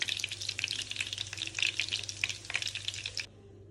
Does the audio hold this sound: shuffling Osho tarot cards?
no